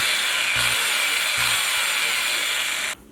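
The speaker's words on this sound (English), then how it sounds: "time to drill some holes" A small power drill bores tiny holes in a handmade paddle-tailed bass swimbait, a continuous high whirring grind with two brief bumps as the bit catches, stopping abruptly at the end.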